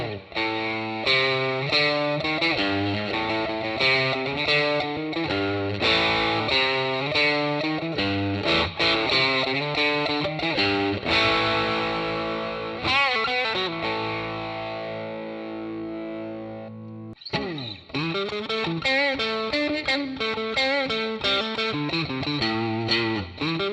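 A distorted Fender Dragon Telecaster Jimmy Page electric guitar plays thick, crunchy chords and riffs, loud and continuous, with a brief pause before the playing resumes.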